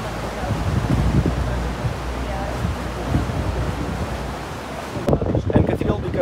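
Ocean waves at Berlengas Island off Portugal wash and roll against the shore, a steady broadband surge mixed with wind noise on the microphone, growing louder and closer near the end.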